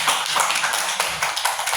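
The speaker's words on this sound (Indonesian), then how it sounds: "coba semua tepuk tangan" A classroom of students claps their hands together, a steady patter of many quick, overlapping claps at moderate volume, nearby and without talk.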